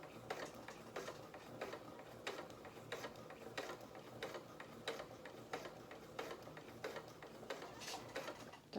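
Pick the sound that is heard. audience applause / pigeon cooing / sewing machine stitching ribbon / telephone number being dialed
sewing machine stitching ribbon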